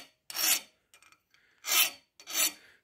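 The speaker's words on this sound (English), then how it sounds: "This is a brand new chainsaw file. It's the aggressive teeth version." Three loud, harsh rasping strokes of a new aggressive-tooth chainsaw file on heat-treated 1095 steel in a hardness test, each about half a second, with fainter scraping between them, close up.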